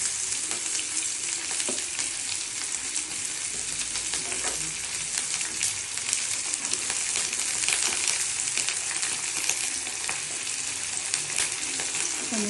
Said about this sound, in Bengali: পনিরগুলোকে এইভাবে টপকিয়ে নিচ্ছি।